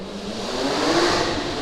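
Fast car driving past, an engine whine swelling as it approaches, peaking midway, then easing off as it passes, heard alone at moderate distance.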